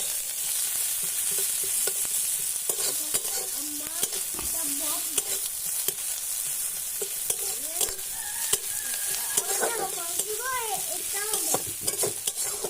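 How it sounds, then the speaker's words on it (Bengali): Chopped onions frying in hot oil crackle and sizzle steadily, close up, while a spatula scrapes and taps the pan in irregular knocks, with faint background chirps and no speech. "পেঁয়াজ আমি ভেজে নেবো।"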